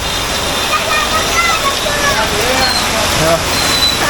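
Rainwater runs and gushes steadily during a heavy monsoon downpour in Konkan on Nag Panchami, a dense continuous roar with no breaks.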